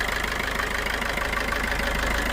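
A used car engine idles steadily and loudly at close range, a continuous even rumble with no speech over it.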